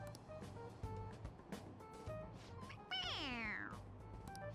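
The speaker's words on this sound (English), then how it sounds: "It meows when you press on its head." A squeezable toy cat in the Persona 5 Royal video game gives a bright, electronic rising-then-falling meow when its head is pressed, heard once near the end over background game music and clatter.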